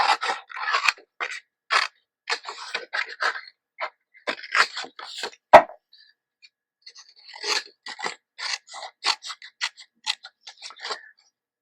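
Scissors cutting through paper card at close range, a run of crisp snips and scrapes in uneven bursts with short pauses and one sharp clack midway.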